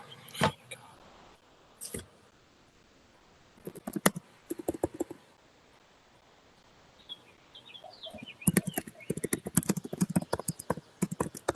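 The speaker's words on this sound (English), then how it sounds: "we can hear you typing" Typing on a computer keyboard heard over a meeting audio line: bursts of crisp, close clicks come in clusters, with quieter gaps between.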